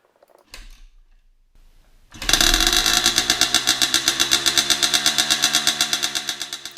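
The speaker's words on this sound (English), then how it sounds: "I thought I'd try and run the bike, see what it sounded like without any packing at all" Two-stroke motorcycle with an unpacked, blown-out silencer starts after a couple of brief cranks, then idles with a loud, rapid, tinny pulsing exhaust, very close and alone.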